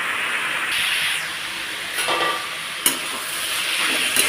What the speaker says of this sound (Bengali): ভালোভাবে নাড়াচাড়া করে নিয়ে একদম সুন্দর করে একটু ভাজা ভাজা করে নিচ্ছি